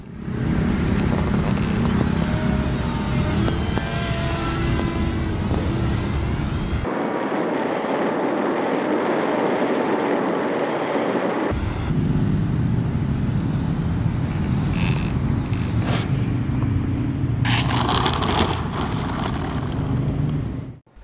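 A small electric motor on an RC model of a Bayraktar TB2 drone whines steadily overhead with some engine pitch changes, then buzzes down near the ground with scraping and clattering of aluminum-strip landing gear toward the end.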